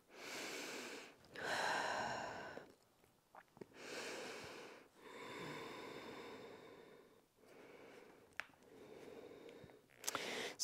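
Slow deep breaths during a seated chair yoga forward fold, long airy inhales and exhales repeating in a steady rhythm, close and fairly soft with no talking.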